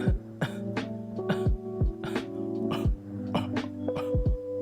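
A series of short, soft coughs, starting stronger and tapering off, made to push out smoke O's. The coughs come in an irregular rhythm over a steady tonal background, with no speech.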